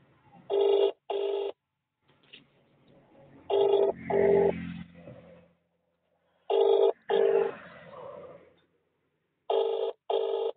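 A phone call rings out with repeated double ringback tones in four spaced bursts, and voices murmur faintly in the gaps between rings.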